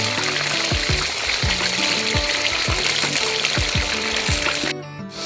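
Chicken pieces frying in oil in a karahi for chicken karahi, a loud continuous sizzle and crackle up close with a steady rhythmic scraping of the ladle against the pan, cutting off abruptly near the end.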